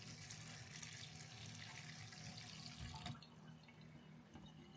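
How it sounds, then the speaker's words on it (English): Water pours steadily from a smart touchless RV kitchen faucet into the sink, a continuous close splashing rush that holds even throughout and eases slightly near the end. "So with a wave of your hand, we got water."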